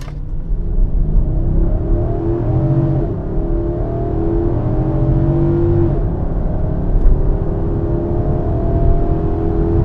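A big V8 engine in a Nissan Patrol Royale SUV roars close by as it launches and accelerates hard, the pitch climbing through the gears with brief dips between shifts; no voices.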